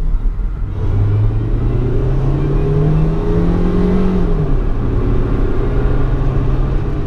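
A car in poor mechanical condition, running on fuel contaminated with brake fluid, drives with a steady low engine rumble and rising revs, its engine pitch climbing and settling as it accelerates, close and continuous throughout.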